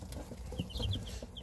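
Newly hatched chicks give a few quick, high-pitched peeps, faint and brief against a quiet background.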